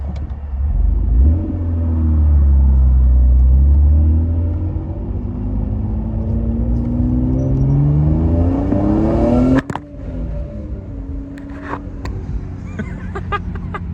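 A BMW M3 with 186,000 miles rumbles through a left turn and then accelerates, its engine note rising steadily and loud nearby before dropping off abruptly, with a steady drone continuing afterward.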